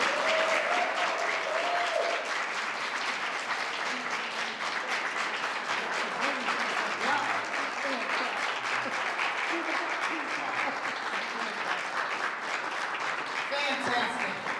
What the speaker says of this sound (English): Ryan Parker. Yeah, you can clap for him.